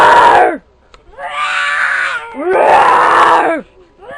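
A person imitates a ferocious roar with their voice, three long loud strained vocal bursts with short gaps between them, close to the microphone.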